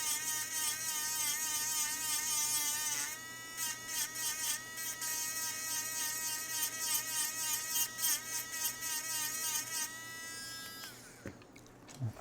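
Steady high-pitched electric whine of a rotary grinding tool working down an iPhone CPU board, running continuously close up with slight pitch wavering, then cutting off near the end.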